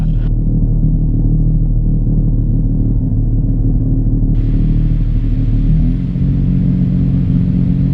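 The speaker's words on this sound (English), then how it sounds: "we'll do a run up right here, and I'll get the parking brake set" Steady, loud engine drone of a light aircraft parked with the brake set before flight, running up toward about 1600 rpm, with a continuous low rumble that shifts slightly in tone partway through and no voices.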